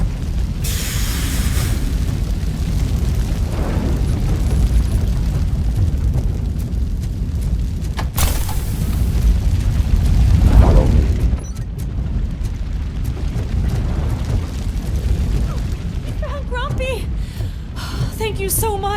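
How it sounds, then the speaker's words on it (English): A building on fire in RoboCop: Rogue City, a continuous roaring, rumbling burn with occasional booms and bursts, with voices speaking over it. "Fire is blocking the way."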